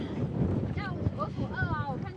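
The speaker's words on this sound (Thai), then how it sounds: "ลมแรง" Strong wind buffets a boat on Lake Kawaguchiko, a gusty rumble of wind noise against the microphone, with a voice exclaiming and speaking over it.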